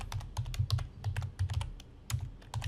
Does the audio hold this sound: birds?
no